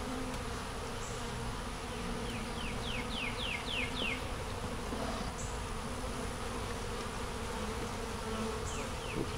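Honeybees buzz in a steady, faint drone around an open hive with queen cells, with a few quick chirping sounds over the constant hum and no talking.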